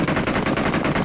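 A sustained burst of rapid automatic gunfire in a multiplayer shooter video game, the shots firing in a dense, even rhythm that stays loud and close for its whole short length.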